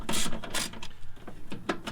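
A ratchet loosening the starter bolts on a 1987 Ford Ranger, giving several quick bursts of close metallic clicking with short pauses between strokes.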